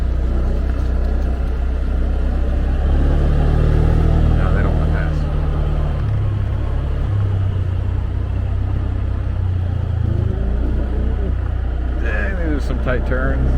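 A motorbike rides at night in Thailand under throttle, its engine making a loud, steady rumble that rises and falls as it accelerates. A rider talks over it throughout.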